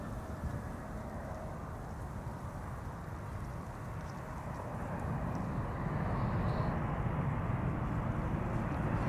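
An airliner lands at Amsterdam Schiphol, its engines a broad, steady rumble and roar that grows slightly louder partway through, heard from a distance with no voices.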